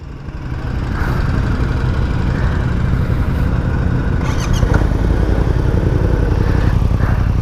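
A Yamaha MT09 with an Akrapovic carbon exhaust runs close and loud, a steady, rough engine drone that holds almost level throughout, with no talking.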